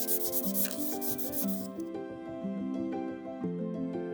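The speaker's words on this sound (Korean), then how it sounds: "거친 단면을 사포로 다듬어 줍니다." Sandpaper rubs the rough cut edge of a 1 mm Formex plastic foam sheet in quick scratchy strokes over about the first two seconds, under steady background music that continues alone afterwards.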